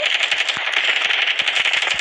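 A rifle fires in rapid, steady rounds in the mobile shooter game Standoff 2, the sharp cracks loud and close over a constant hissy background.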